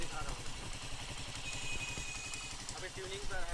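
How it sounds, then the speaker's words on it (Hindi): A TVS Star City Plus motorcycle, recently tuned after timing chain trouble, runs steadily nearby with an even, rapid low thumping beat throughout, while someone talks over it. "अब आप लोगों को जो गाड़ी स्टार्ट करके साउंड क्वालिटी दिखाता हूँ"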